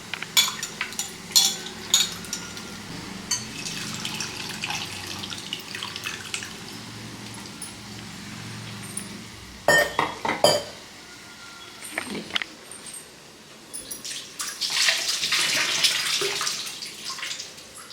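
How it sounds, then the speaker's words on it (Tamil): Tamarind water is poured into a cooking pot during lunch preparation, giving soft intermittent splashing and trickling with light metallic clinks of utensils against the vessel. The sounds come in quiet bursts, with louder pouring pulses near the middle and toward the end. "இப்போ வந்து புளி தண்ணியே இதில் ஊற்றிடலாம்"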